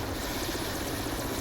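Helicopter flying overhead while bringing an injured soldier to Ranchi, a steady loud rotor drone with dense broadband whir, continuous and unbroken with no voices.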